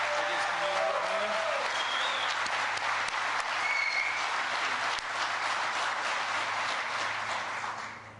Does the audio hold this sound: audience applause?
yes